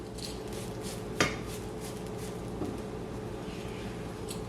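Grated coconut dry-roasting in a pan for traditional sesame sweets, with a steady low hum and light scraping, plus one sharp metallic clink of a utensil against the pan and a softer tap later.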